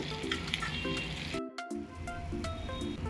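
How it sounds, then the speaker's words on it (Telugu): Peanuts frying in a small amount of oil for a flattened rice mixture, a steady soft sizzle running under tonal background music, with a short drop near the middle. "చూడండి, వేరుశనగ పప్పులు కూడా చక్కగా వేగిపోయినాయండి."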